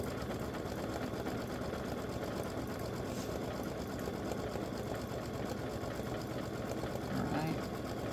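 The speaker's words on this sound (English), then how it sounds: "It laid down a underlay, and now it's doing the satin stitching" An embroidery machine does satin stitching on a patch, a faint, continuous, rapid mechanical whirr with an even rhythm that runs the whole way through.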